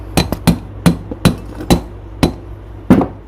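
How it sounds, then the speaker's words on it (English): A hammer taps a bearing down onto the front axle of a Kubota B1550 tractor in a series of about eight sharp metallic strikes, spaced unevenly and close by. "once we put that bearing on and we tap it down flush with the top"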